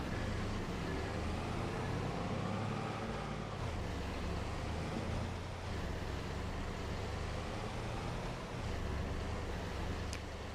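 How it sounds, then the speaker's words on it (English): Vehicle engine running in Farming Simulator 22, a steady low drone held at an even level throughout, with a faint airy hiss over it. "let's turn the engine off"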